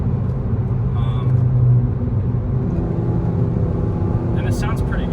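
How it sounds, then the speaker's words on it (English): A 2011 VW Jetta with the 2.5-liter five-cylinder engine drones at a steady low rumble while driving on a fall mountain road, with faint light sounds near the end. "It's a unique sound having 5 cylinders."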